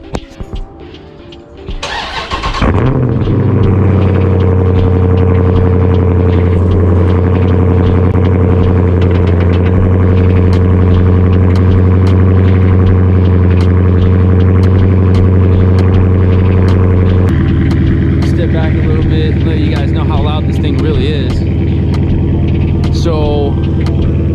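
A modified 392 Hemi V8 in a car cold-starts with a brief cranking burst, then settles into a loud, steady, deep rumble that shifts tone partway through as the idle changes, heard up close with no talking.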